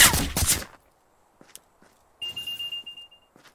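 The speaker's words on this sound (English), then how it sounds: "Flashbang out." A flashbang grenade goes off in the Contractors VR game as a loud broadband burst, followed by a few faint knocks and then a burst of gunfire-like bangs with a sustained high ringing tone.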